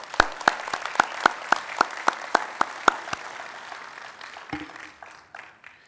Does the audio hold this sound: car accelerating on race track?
no